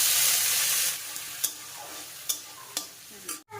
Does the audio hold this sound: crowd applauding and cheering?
no